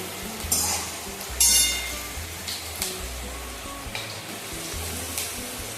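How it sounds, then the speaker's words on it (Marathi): Onions sautéing in a kadhai while preparing varan batti, with soft sizzling and scattered stirring clinks and scrapes at close range, no voices. "कांद्याला ते छान परतून घेऊ."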